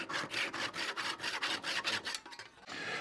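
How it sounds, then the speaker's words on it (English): Handsaw slicing a wooden peg to a 1.5 inch length, about a dozen quick, even rasping back-and-forth strokes, close and fairly quiet, ending with a short pause and a few final strokes. "I use it to hold the peg while I'm slicing"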